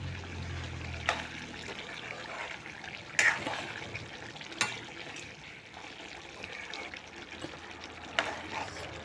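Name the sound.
boiled water poured into cooking vegetable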